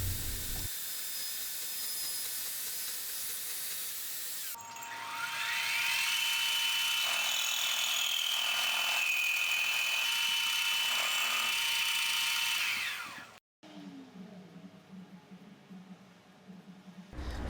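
A milling machine cuts a bicycle frame down tube with a sustained high whine for roughly eight seconds, rising in at the start and fading out at the end, with softer shop noises before and after.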